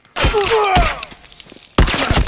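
Gunshots in The Last of Us Remastered multiplayer: a loud burst of fire, then a pause with fainter reports, then a second sharp flurry near the end, with faint voices underneath.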